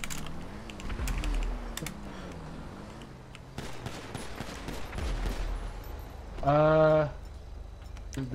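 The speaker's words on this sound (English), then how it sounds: "There's shots in front of our building." Gunfire crackles in rapid bursts outside a building in GTA V, a dense volley of sharp reports with clattering bangs spread through the first half, followed by a brief harmonic tonal sound near the end.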